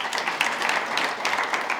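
Studio audience at a televised quiz show breaking into steady, dense applause, a continuous wash of many hands clapping with no voices over it.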